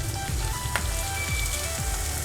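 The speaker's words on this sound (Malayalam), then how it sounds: "സവാള ചെറുതായിട്ട് അരിഞ്ഞത് ചേർത്ത് കൊടുക്കുവാണ്" Finely chopped onion hitting a hot pan for spicy ginger chicken, giving a steady bright sizzle and crackle, with a few scraping or stirring touches over the constant frying hiss.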